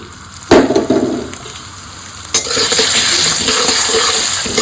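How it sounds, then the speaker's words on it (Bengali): Gobindobhog rice being fried in mustard oil, a loud close sizzle with two sharp knocks as grains are tipped in and stirred, the frying swelling and then holding steady, no talk. "দেখো এই সর্ষের তেলে এখন গোবিন্দভোগের চালটা ভেজে নেবো।"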